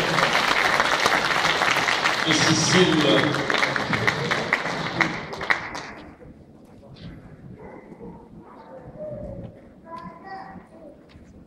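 Hall audience at an international healing conference in Brussels gives a loud, full round of applause for about six seconds, which stops abruptly before a voice speaks into a much quieter room.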